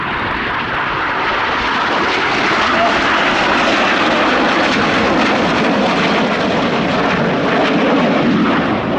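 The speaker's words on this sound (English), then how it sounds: "Each aircraft will perform a barrel roll, crossing and then a second barrel roll in a manoeuvre called the double rolls." Red Arrows jets roaring past during an air festival display, a loud, steady broadband engine rush sustained throughout with no talk over it.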